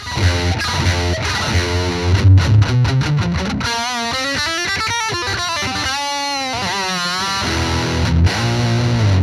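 An electric guitar plays through a Fender Hammertone distortion pedal set for low-to-mid gain rock tones, with chugging low notes, sliding bends and sustained distorted chords, loud and continuous.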